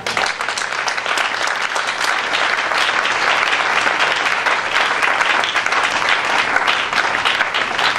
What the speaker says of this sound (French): Acclame le Seigneur ensemble